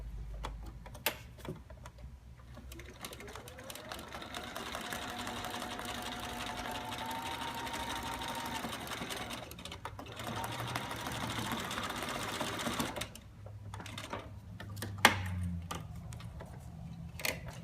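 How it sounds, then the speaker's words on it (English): A sewing machine runs steadily, stitching a line across a stuffed cloth doll between its head and body, with a continuous whirring drone and short pauses near the end. "I'm going to sew that line again between her head and her body."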